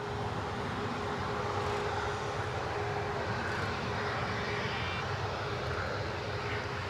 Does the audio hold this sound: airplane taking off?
yes